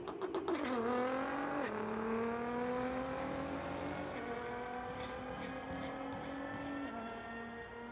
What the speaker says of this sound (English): GTR on the Lordco lane going against Michael Alfatoff, 2006 Corvette.